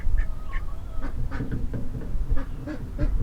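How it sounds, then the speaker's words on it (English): A duck, a curly-tailed drake of a farm flock, gives a run of raspy, low quacks in quick irregular bursts, close to the microphone, with no talk. "And listen to Blue's quack."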